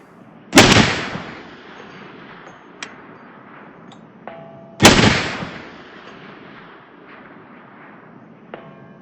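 Two loud rifle shots from a Springfield Armory Saint Edge ring out several seconds apart, each a sharp crack with a fading echo, followed by faint metallic pings from distant steel targets.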